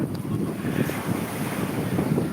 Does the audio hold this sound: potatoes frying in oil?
no